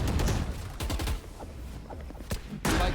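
Rapid gunfire in the shooter game Valorant crackles in dense, near bursts, fading briefly before a loud final volley.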